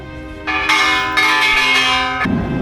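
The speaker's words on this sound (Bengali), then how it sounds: "এই যে ঘন্টাটা দেখছেন সবাই বাজাচ্ছে এটা বিশ্ব শান্তি প্রার্থনার জন্য" The Peace Bell at Hiroshima struck by a visitor for world peace: a close, loud, ringing metallic tone with rich sustained overtones, swelling with a couple of strikes before fading out.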